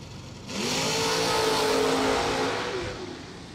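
A drag racing car launching down the strip at a bracket racing event roars in quickly and holds a loud, rising engine note for a couple of seconds before fading as it pulls away.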